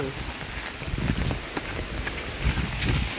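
Heavy rain pours steadily during a flooding downpour, a dense, loud hiss with scattered drops and gusts of wind noise on the microphone throughout.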